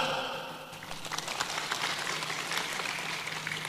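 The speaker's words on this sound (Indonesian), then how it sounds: "Tepuk tangan" A church congregation at a sermon in Teluk Bintuni, West Papua, breaks into applause that starts softly and builds into steady, moderately distant clapping from many hands.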